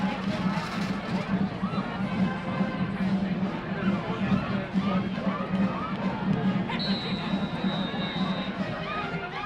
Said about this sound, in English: Nice crowd on hand for Pinnacle.